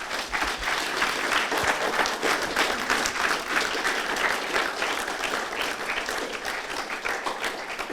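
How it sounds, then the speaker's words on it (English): Sustained applause from an audience fills a youth manufacturing event in Leeds, dense and steady clapping throughout with no break. "Applause."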